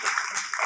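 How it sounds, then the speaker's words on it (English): An audience at a Saturday morning real estate event applauds in a short, dense burst of clapping. "So please clap it up for yourselves."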